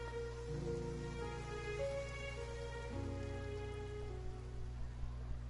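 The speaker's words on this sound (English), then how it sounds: "It rained for longer than I suspected" Steady rain falling in the game Genshin Impact, a soft continuous hiss with a gentle musical score playing over it throughout.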